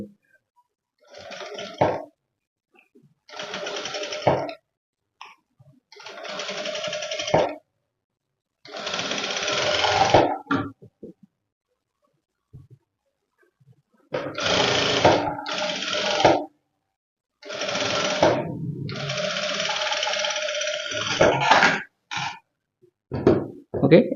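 A sewing machine stitches a shoulder princess-cut blouse in repeated bursts of rapid mechanical whirring, separated by silent pauses, close and fairly loud.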